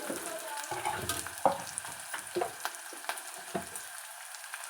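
Turmeric and curry leaves fry in a hot pan for a gongura red chilli chutney, a soft steady sizzle broken by scattered crackles and light stirring scrapes, close and moderately quiet.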